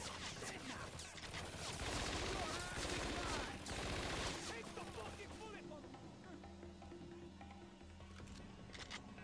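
Uzi submachine gun fire in the Scarface: The World Is Yours video game, a dense rattling fusillade of rapid shots for the first few seconds, then fading into quieter game ambience.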